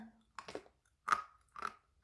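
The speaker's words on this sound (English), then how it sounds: "It's crunchy, which means they're totally dry." Crunchy acorns, dehydrated for about 12 hours, are chewed close up in three or four crisp, separate crunches with short quiet gaps between bites.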